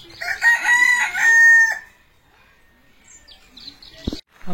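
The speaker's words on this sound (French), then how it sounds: "Des poules." Chickens in a tropical park make a loud, close, drawn-out crowing call, followed by faint clucks and bird sounds over quiet background, ending with a sharp knock.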